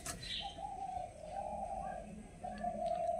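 A giribaz flying pigeon coos nearby, a soft, sustained low call held through several drawn-out phrases with brief chirps above, faint and without talk.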